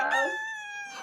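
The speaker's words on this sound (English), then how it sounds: "it's not normal to hear a rooster crowing in the city" A rooster's crow rings out nearby in New York City, a single drawn-out, strained call that holds its pitch before trailing off.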